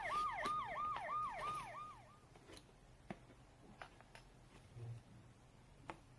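A wailing siren sweeps up and down repeatedly for about two seconds, then cuts off, leaving quiet street background with a few faint clicks.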